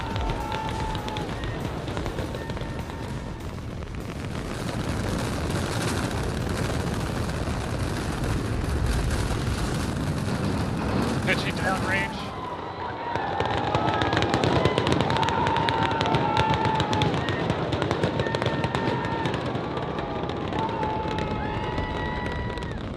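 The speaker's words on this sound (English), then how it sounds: "We have liftoff." SpaceX rocket lifting off, a loud sustained crackling engine roar rumbling continuously, with broadcast voices and crowd noise mixed in.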